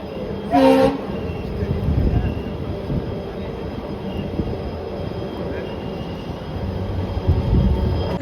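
The 16548 Yesvantpur Express, hauled by a WDP 4B diesel locomotive, departs Bommanahalli station with a low, steady rumble of rolling wagons. A short, sharp horn-like burst comes near the start, and the station is busy with people.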